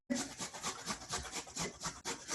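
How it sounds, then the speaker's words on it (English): Fresh ginger rubbed against a cheese grater in a kitchen, making a close, continuous rasping scrape with quick repeated strokes and no speech. "you're just gonna grate your ginger with a cheese grater"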